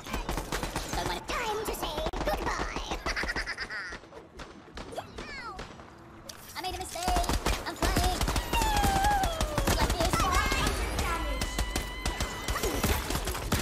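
Gunfire in the video game Worms Rumble, with dense bursts of shots and impacts that drop away in a brief lull and then resume loudly, while a player talks over them.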